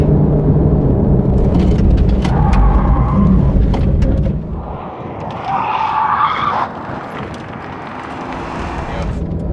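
A car with its electronic driving aids disabled swerves sharply at speed, engine roaring loudly, tires hissing and squealing briefly before the drone eases off.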